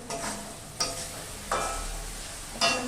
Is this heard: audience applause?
no